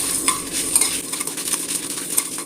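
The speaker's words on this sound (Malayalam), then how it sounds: "അതിലേക്ക് ഒരു തണ്ട് കറിവേപ്പില കൂടി ഇട്ടിട്ട് ഒന്ന് വറുത്തെടുക്കാം" Curry leaves crackle and sizzle in hot oil, with a few sharp pops and spatters over a steady frying hiss; no voices.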